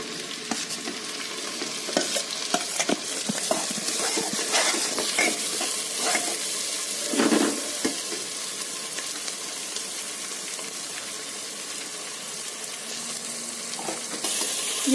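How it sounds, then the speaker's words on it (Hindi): Sliced, chopped onions with green chillies frying in a pan for a jackfruit curry, a steady broadband sizzle with scattered crackles and occasional scraping stirs, close and continuous with no talk. "यहाँ जब तक मेरी ये प्याज हो रही है तब तक ये अच्छे से थोड़ी सी डीप ब्राउन हो जाए"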